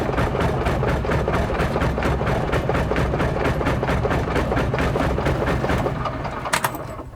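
A piston engine on the world's fastest airplane cranks over in a steady rapid pulsing chug, loud and close throughout, then winds down and falters near the end with a brief higher burst.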